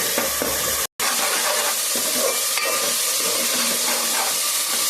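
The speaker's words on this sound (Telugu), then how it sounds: "ఈ విధంగా అయితే కొంచెం ఎర్రగా వచ్చేదాకా వేయించుకుందామండి" Chicken curry fries in a pan until it turns reddish, a loud, dense, continuous sizzle and hiss with a brief dropout near the start.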